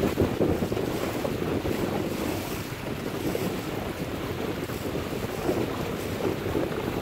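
The Palau Siren liveaboard sails under way at sea with its sails up. Strong wind buffets the microphone over a steady rush of water and waves, and no one speaks.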